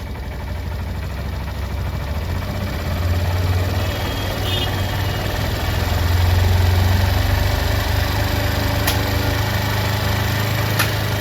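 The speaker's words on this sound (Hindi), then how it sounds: "अभी ये बाइक स्टार्ट है" Motorcycle engine idling while the carburettor is tuned, a close, steady low-pitched thrum that swells slightly in loudness midway as the revs rise, with faint mechanical ticks on top.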